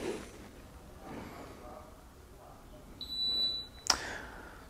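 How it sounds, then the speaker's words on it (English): A racquet swing weight measuring machine gives a short, high electronic beep, soon followed by a sharp click, against a quiet, low background hum. "at the beep, you let it go"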